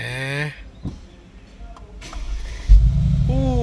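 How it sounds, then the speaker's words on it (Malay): A 2021 Honda Civic FL5 engine cranks and fires up, a short starter whir followed by a loud catch and steady idle, close by, with a voice briefly speaking before it. "So kita start enjin dia."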